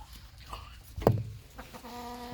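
A few short hen clucks and a sharper squawk, close by, with low background noise and a brief harmonic call near the end.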